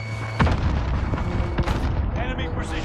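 A frag grenade blasts in Warzone gameplay with a deep boom amid other thuds and gunfire, while game voice lines and players talk over it.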